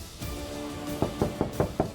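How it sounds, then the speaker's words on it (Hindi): Knocks on a house door come in a quick, uneven series of sharp raps, moderately close, after a short stretch of softer room noise. "हम कब से दरवाजा पीट रहे हैं।"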